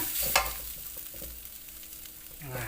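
Chilies dry-roasting in a pan over medium heat make a steady soft sizzle with faint scraping stirs and one brighter clatter near the start, close and continuous with no talking.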